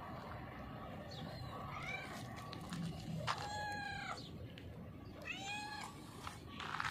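A calico cat with broken legs meows several times outdoors, drawn-out rising-and-falling cries close to the listener over a steady background hiss.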